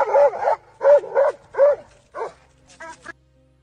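Dog barking close and loud, a burst of several sharp barks in quick succession followed by a couple of whimpering yips.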